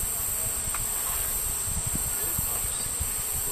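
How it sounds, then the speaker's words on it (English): Honey bees pour out of a hive that has just been moved, a dense, continuous buzzing hum close by with a steady high insect whine and faint rustling throughout. "Dad, all the bees are coming out."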